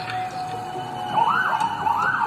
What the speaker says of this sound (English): With the cops on her trail, Jessica punched it.